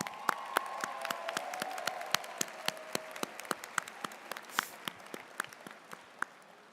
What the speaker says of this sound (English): Graduates, please join me in thanking your special ones in the audience today with a round of applause